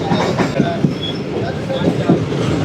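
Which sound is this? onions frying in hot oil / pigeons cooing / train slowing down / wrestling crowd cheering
train slowing down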